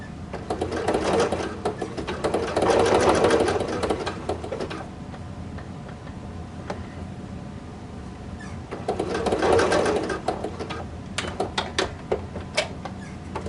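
A sewing machine stitches along zipper tape beside the teeth of a ruffled tank top, running in two steady whirring bursts separated by a quieter pause with soft handling clicks.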